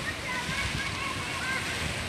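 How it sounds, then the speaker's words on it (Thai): Water at the Fountain of Wealth in Singapore, splashing and rushing in a steady, close wash as a hand reaches into it, with a constant hiss and no distinct pauses. "นี่คือน้ำพุแห่งความมั่งคั่งนะคะ โอเคเราไปจับน้ำกัน"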